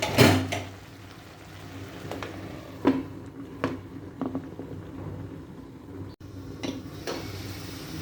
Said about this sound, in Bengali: আর একটু ভালো সেদ্ধ হওয়ার জন্য মই এবার আবার ঢাকা দেবো।